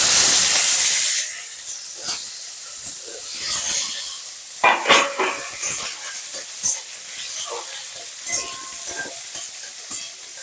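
Cut potatoes drop into hot oil seasoned with black cumin and split chillies, setting off a burst of loud sizzling that settles into a steady frying hiss with occasional stirring clatter.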